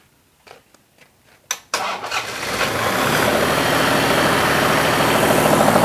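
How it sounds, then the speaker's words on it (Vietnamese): A Kubota V1803 diesel generator engine cranks with a few sharp clicks, then catches and settles into a loud, steady idle that holds to the end, with no talking. "giờ em tiếp tục em sẽ khởi động máy cho quán cho em xem nha."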